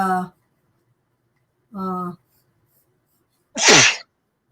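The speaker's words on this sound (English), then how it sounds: "I just had a sneeze" A single sharp sneeze bursts out near and loud after two short harmonic vocal sounds separated by silence.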